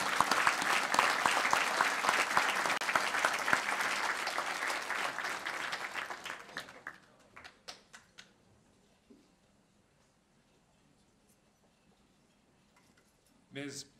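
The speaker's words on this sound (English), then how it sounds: "we congratulate you with a round of applause" A gala ball audience breaks into loud, dense applause that holds steady for about seven seconds, then thins to scattered claps and fades to near silence before a short final burst.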